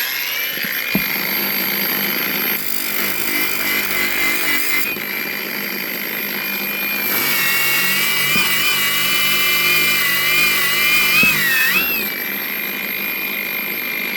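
A power sander grinds against a meteorite with a loud, continuous high whine that shifts in pitch as pressure changes, close up throughout.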